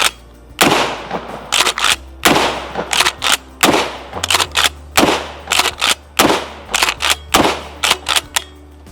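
A 12 gauge shotgun fires repeatedly while testing a pistol-mounted micro red dot sight, with loud close blasts at a steady pace of roughly one per second, each followed by quick clicks from cycling the action.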